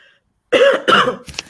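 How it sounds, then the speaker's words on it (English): Two harsh, close coughs in quick succession after a brief silence, followed by a softer throaty rasp. "Got a cough."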